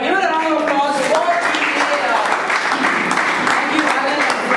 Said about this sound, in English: give it a round of applause for